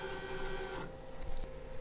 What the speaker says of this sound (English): So now the printer will auto home again and it will cool down.